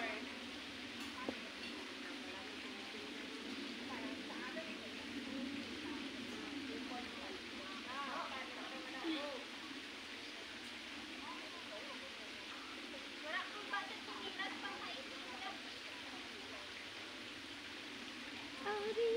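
Flowing water of Shek Pan Tam stream in Fanling, Hong Kong, a steady close rush and babble of water running continuously, with people talking over it at times.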